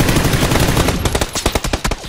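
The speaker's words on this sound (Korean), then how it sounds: "총소리가 이렇게 많이 나." Loud, dense automatic gunfire in the Xbox version of PUBG (Battlegrounds), a rapid stream of close shots that thins into distinct bursts, with no talking.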